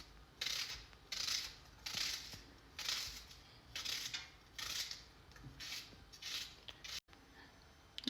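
A knife cuts through half an onion in a series of rhythmic, close, scratchy strokes about once per second, each a short crunching rasp, with no speech.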